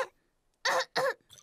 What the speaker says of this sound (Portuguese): a tosse do Pedro é contagiosa.